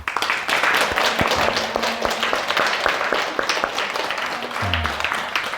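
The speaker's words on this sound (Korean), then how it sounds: "감사의 박수" Audience applause of thanks at a Buddhist study gathering in Busan, a steady dense clapping from a group that fills the room for several seconds.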